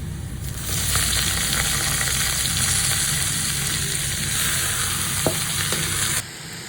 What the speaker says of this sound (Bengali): শাক বাগার দেওয়ার জন্য আমি তেল গরম করে নিয়েছি দিয়ে দিচ্ছি রসুন কুচি কয়েকটা শুকনো মরিচ